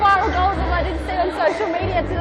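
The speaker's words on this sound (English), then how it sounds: "the crowd absolutely enjoying that one" A futsal crowd in an indoor men's league match reacting to a shot that just misses, a burst of loud cheering and excited chatter that rises and lingers.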